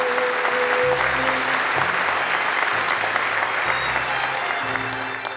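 Warm, steady applause from an audience at the Japan Prize award ceremony, dense clapping held evenly throughout, with low musical tones playing underneath.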